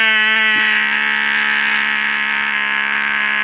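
A plug-in electronic mouse repeller emits a loud, steady, high-pitched electronic tone with dense harmonics, holding unbroken and alone for a few seconds.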